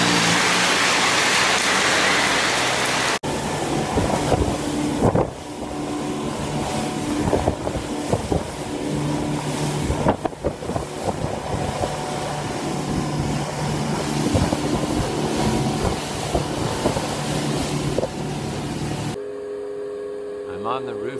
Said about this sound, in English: I'm on the rooftop pool, and the filter's so noisy